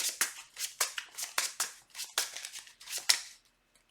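Playing cards shuffled by hand during a tabletop card game: a quick series of crisp riffling bursts, about a dozen in a steady rhythm, close and alone.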